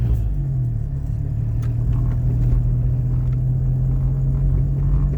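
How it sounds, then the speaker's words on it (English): A 2001 Ford Focus with a broken exhaust flex pipe: a deep, steady exhaust rumble drones throughout, a low throaty idle with faint higher ticks and rattles on top. "I'll be getting the flex pipe replaced. That's the noise there."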